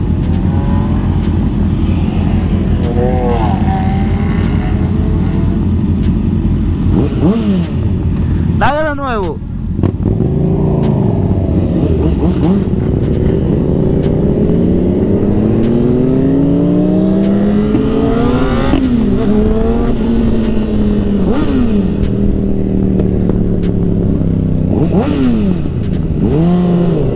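A car engine revs and drives past at a Brooklyn bike night, loud and close, with long rising and falling engine sweeps and a passing swell around the middle, mixed with other vehicle noise and some talk.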